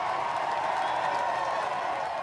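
Cheering, applauding crowds line Downing Street in 1997, a dense, steady roar of massed voices and clapping that holds at an even level throughout.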